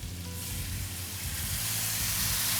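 Shrimp sizzle loudly in a hot pan as Chardonnay is poured in, giving a close, steady frying hiss that swells toward the end, with no talking.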